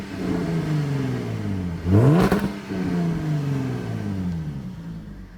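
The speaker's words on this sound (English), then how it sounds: "now it's in dynamic mode, so let's take a listen to it now." Jaguar F-Type V6 S sports car with factory exhaust and cats, revving in dynamic mode: a loud, close engine climbs and falls in pitch, with a sharp blip and crackle in the middle before settling back.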